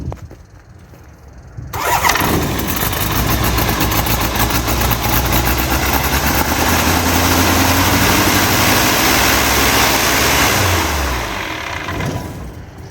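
A Searey seaplane engine cranks and catches after a short quiet start, then runs loud and steady at idle before easing off near the end, heard close up.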